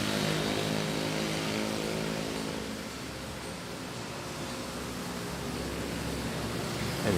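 Airliner taking off at Manila International Airport during a typhoon: a steady, loud broadband jet roar with low rumbling and engine drone, slightly easing then holding, heard alone without talk.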